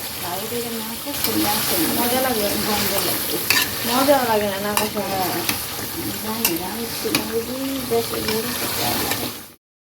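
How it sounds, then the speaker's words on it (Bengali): Duck meat kosha stir-fries in a pan, a dense sizzle with repeated scraping and stirring strokes throughout, a voice talking over it in the middle, before the sound cuts off abruptly at the end. "এই যে কষা কষা মজাদার টেস্টি মাংস অলরেডি রান্না হচ্ছে"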